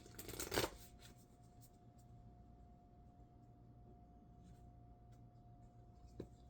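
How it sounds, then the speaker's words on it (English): A Moonology oracle card deck is shuffled in a short burst of riffling near the start, then a quiet room with a faint steady hum and a few soft taps. "So let me go to the Moonology deck."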